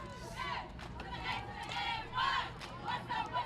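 Cheerleaders at a Christmas parade shout a cheer in several loud, rhythmic bursts, with crowd noise and nearby chatter mixed in.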